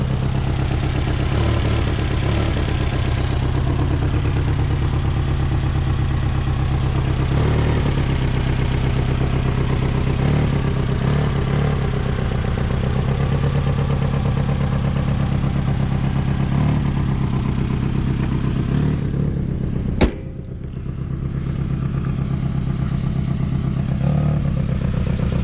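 A 2009 Nissan Altima 2.5S sedan idles steadily with a somewhat loud exhaust, a continuous close drone with faint clatter, briefly interrupted by a sharp click near the end.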